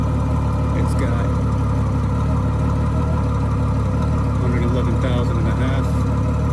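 A 1995 Honda GL1500A motorcycle idling in neutral, its engine a steady, smooth low rumble that holds even throughout, with faint background sounds on top.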